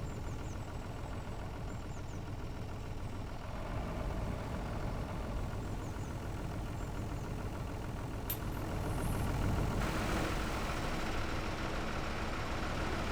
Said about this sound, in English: I think this tractor is barely strong enough to pull this plow